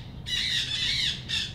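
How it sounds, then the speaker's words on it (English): Wild parrots flying over a canyon-side house give harsh, raspy squawks in two bursts, loud and fairly near, with faint background noise. "these wild parrots that live in this canyon over here, they fly over directly over my house twice a day,"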